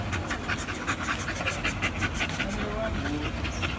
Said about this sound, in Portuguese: Essa é a Abigail, que é uma neta do Kaka 2, cadelinha micro.